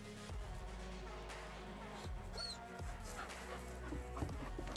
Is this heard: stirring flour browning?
no